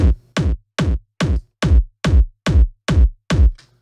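Nine evenly spaced synth kick drum hits without EQ in FL Studio, boomy and loud with long, flabby low tails, repeating at a steady beat.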